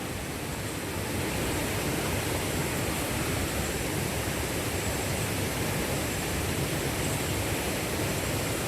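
A noisy river rushes past at Nice River in Manchester, Jamaica, its water muddy after heavy rain. The roar is loud, dense and constant, with no talk over it.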